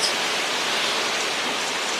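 Steady, loud broadband rumble of wind buffeting the microphone outdoors in Spain, constant for the whole stretch with no other clear sounds.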